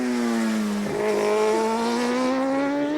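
A Suzuki superbike screams past at speed during Superpole qualifying at Misano in 2007, its engine a loud, steady high-pitched whine that drops briefly at a gear change and then climbs again.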